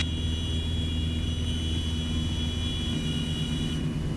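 Inside the cabin of a Piper Seneca twin-engine airplane in flight as the landing gear is lowered, a steady loud engine and propeller drone with a low rumble continues throughout, with no distinct separate gear clunk standing out.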